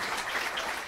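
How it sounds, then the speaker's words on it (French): A brief wash of audience applause greets two speakers at the Paris Saclay science summit, a dense, steady patter with no distinct individual claps. "Je crois déjà qu'on peut applaudir ce duo de choc."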